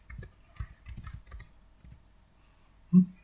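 Short run of computer keyboard typing as a contact name is entered, a cluster of quick, close key clicks over about a second and a half, then quiet and one louder single click near the end.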